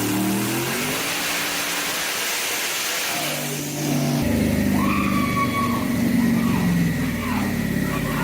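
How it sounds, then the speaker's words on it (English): A car engine revs hard on a dyno, dipping briefly before climbing again into a loud, sustained high-rpm roar with shifting pitch. "So we had this car on the dyno,"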